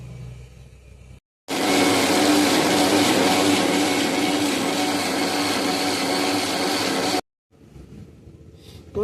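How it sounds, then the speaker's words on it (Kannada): A mixer grinder grinds masala spices with fresh mint at loud, steady full power for about six seconds, cut off abruptly at both ends, with quieter kitchen background before and after. "ಇವಾಗ ಗ್ರೈಂಡ್ ಮಾಡ್ತೀನಿ."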